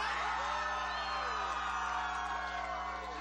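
Audience applause and cheering in a casual singing-competition setting, a steady wash of clapping mixed with whoops and yells, sustained and fairly distant throughout.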